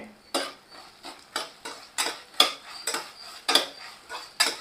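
A spoon scrapes and clinks against a pot while mixing a mutton white kurma with green chillies, about a dozen sharp, evenly spaced strokes, close and clear, with no voices.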